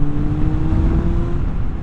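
A Suzuki Bandit motorcycle with a 650cc inline-four engine runs close by. Its loud, rough engine note holds at a steady pitch for under two seconds, and no voices are heard.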